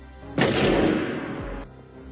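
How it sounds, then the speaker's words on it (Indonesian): A single gunshot blasts out from behind as Fredo is shot while fishing on Lake Tahoe in The Godfather, a sharp loud crack that rings off into a long decaying roar before cutting to quiet. "Al Neri, yaitu anak buah Michael, menembaknya dari belakang"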